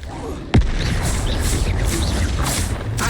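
A Confringo explosion spell in the video game Hogwarts Legacy lands as one sharp, loud boom early on, followed by a sustained rumbling roar of combat noise with faint magical whooshes.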